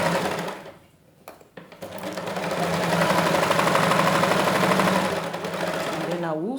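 A sewing machine runs steadily while stitching a trouser pocket along a curved edge, a dense continuous whir that dips briefly near the start and then holds loud and close, with a short rising whine at the end.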